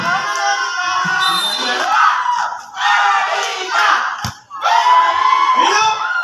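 A crowd yells and screams loudly in repeated bursts, excited voices overlapping with brief pauses between surges of shouting.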